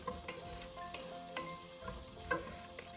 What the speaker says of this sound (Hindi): प्याज को हमने लाइट ब्राउन करना है।